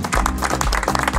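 Applause from the crowd gathered at the opening of a new EV charging station in a supermarket parking lot in Bremen-Nord, a dense, steady burst of clapping over a low humming background.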